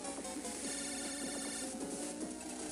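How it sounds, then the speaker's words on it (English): Repeated electronic ringtone from a PET phone in the Mega Man Battle Network 5 video game, a steady looping chime over game music, loud and continuous. "Lan, it's your phone."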